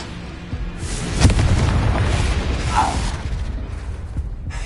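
A fiery Incendio spell bursts in the Hogwarts Legacy video game, a sharp boom landing early and trailing into a loud, dense rumble of crackling flame and battle noise that stays steady to the end.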